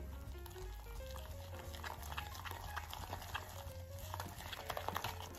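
Cornmeal batter with a spoonful of wheat flour being stirred in a bowl, a faint, steady run of soft wet scrapes and sloshing clicks with a low background hum and no talk.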